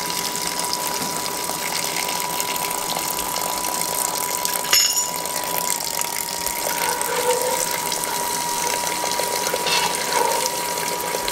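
Cold water gushes steadily into a stock pot for chicken stock, a continuous pouring rush with a faint hum underneath and a brief clink midway.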